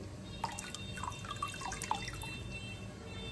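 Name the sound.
water boiling in a pot for rice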